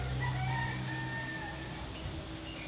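A rooster crows at a rural Filipino roadside spot, a drawn-out call heard at moderate distance over steady background noise, with no talking.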